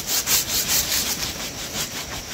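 A saw cuts back and forth through the wood of a tree in steady, rhythmic rasping strokes. The sound is close and fairly loud, with no talk.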